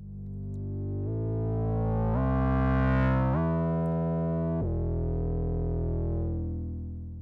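A legato synth bass from the Helm software synthesizer glides smoothly between sustained notes, with pitch bends connecting each step into one unbroken, evolving phrase, played alone without talk.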